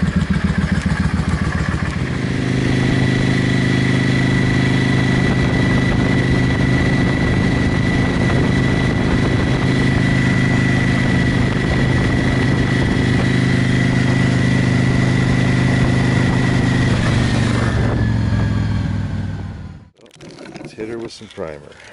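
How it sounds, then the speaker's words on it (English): A Yamaha V-Star 650/1100 cruiser motorcycle engine runs steadily and loudly up close for about twenty seconds with a constant droning tone, then cuts off abruptly near the end. "Let's try a little test drive and see how it reacts."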